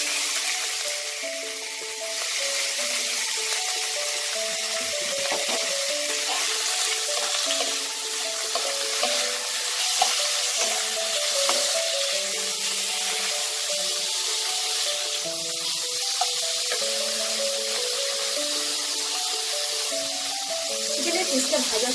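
Chicken pieces frying hard in white oil with a little soy sauce, a continuous close sizzle and hiss with stirring scrapes throughout, while someone talks over it.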